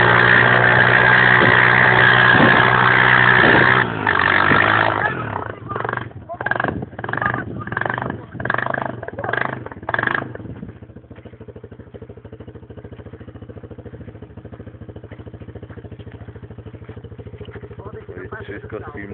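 A quad bike engine runs loud and steady while riding on a road near Malechowo, then chops into a series of rhythmic pulses before dropping to a quieter idle-like hum, with people talking over it.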